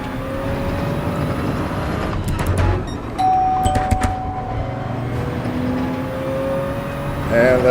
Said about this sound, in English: And that's a doorbell.